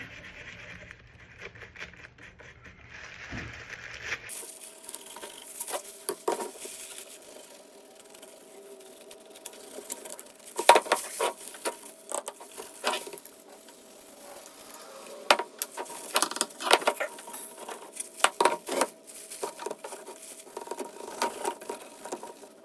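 A toothbrush dabbed in wax stain is scrubbed over discolored deer antlers. Quiet bristly scratches come in irregular bursts, close by, with small taps and pauses between strokes and no voices.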